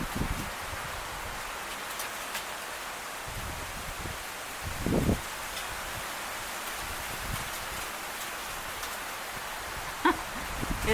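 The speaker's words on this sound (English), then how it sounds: "Do you hear that wind? It's nice." Steady wind blows outdoors with a constant broad rush, occasionally rustling leaves and giving a few soft gusts.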